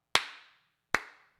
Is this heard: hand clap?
yes